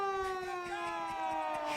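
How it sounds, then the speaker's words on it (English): Siren horn at a college football stadium during an Iowa State or Arizona State game, a sustained wailing tone that slowly falls in pitch, fairly loud and steady throughout. "they turn that siren on and the light"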